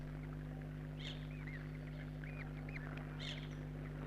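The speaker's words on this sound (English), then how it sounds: "This mountain duck is coming to the edge to feed in the shallows" A mountain duck at the shallow edge of Cullens Lake gives short, faint quacking calls twice, set against a steady low hum.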